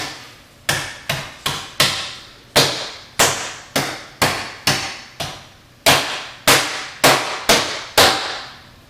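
A large ball of stromboli dough slapped and banged by hand on a work surface, fourteen sharp, loud, close thwacks in an uneven, fast rhythm, each dying away quickly, with no talking.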